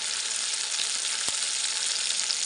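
A spice paste of ginger, green chili and turmeric fries in a pan, giving a steady, close hiss with a single soft tap partway through.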